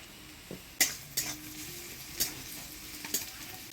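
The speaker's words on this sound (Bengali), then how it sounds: "এবার দিয়ে দেবো থেতো করা রসুন" Crushed garlic frying with onion and black cumin in a pan, a soft steady sizzle broken by several sharp metallic scrapes and clinks of a spoon stirring against the pan, close and clear.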